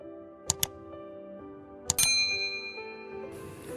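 Two quick bright notification bell dings ring out, followed by two more dings a moment later. Then a rising shimmering chime swells and fades, all with no speech.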